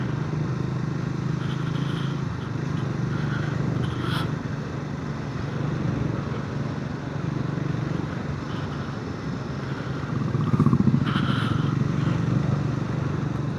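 A Scrambler 400X motorcycle cruises on a night ride from Valparai, its engine a steady low drone with wind rush that swells briefly near the end, no talk over it.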